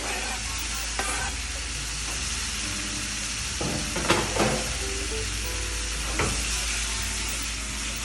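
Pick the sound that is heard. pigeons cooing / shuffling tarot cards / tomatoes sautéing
tomatoes sautéing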